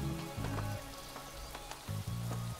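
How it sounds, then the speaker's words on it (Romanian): Rain beginning to fall in the video game Craft The World, a steady patter of drops over low game music, with soft, even intensity throughout. "Na, că a început și ploaia."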